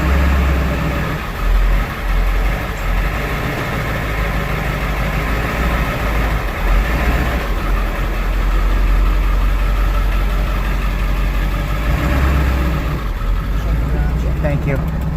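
A truck engine idles steadily after a 4R100 transmission rebuild, a low rumbling drone close to the microphone with brief voices and shifting noises over it.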